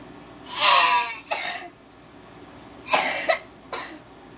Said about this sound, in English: I have a lot of coughs.